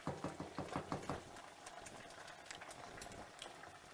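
A pot of farro simmers in boiling water, giving a steady close bubbling with a few louder pops at the start that settle into a softer continuous burble.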